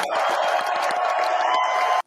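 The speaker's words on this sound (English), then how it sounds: "Peter, give him a big round of applause" Studio audience applauding and cheering for a guest introduced on stage, a dense, loud wash of clapping and shouts that cuts off abruptly at the end.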